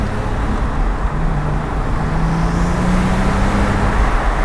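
A 2008 Porsche 911 Turbo drives through a corner and downshifts; a loud, steady engine drone fills the cabin, with a tone that climbs gradually under road noise.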